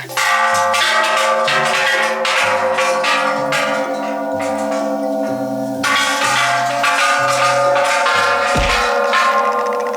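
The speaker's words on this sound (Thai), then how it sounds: "ลุงจะทำการตีระฆังก่อนนะฮะ เรียกยักษ์ออกมา" A temple bell rings at Wat Saket, struck again and again in a loud, close, steady rhythm, each strike's ringing tone overlapping the next.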